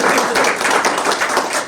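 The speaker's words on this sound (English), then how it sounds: "If we can get a nice round of applause for Councilman Rodericks." A room full of people gives a short round of applause for a city councilman at a public planning presentation, dense steady clapping at close range that holds throughout and tapers slightly at the end.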